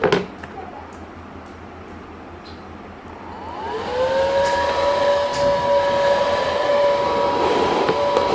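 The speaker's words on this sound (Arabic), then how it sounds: "اهم حاجة يا جماعة المروحة تدخل هواء لجوه" A fan in a homemade air cooler spins up after a quiet start, rising into a loud, steady whir with a strong tonal hum that continues to the end.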